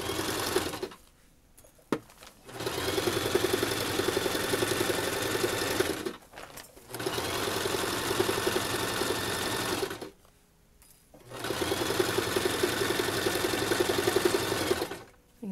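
A sewing machine stitches a baby changing mat in three long, steady runs of motor whir, separated by short quiet pauses while the fabric is turned at the needle.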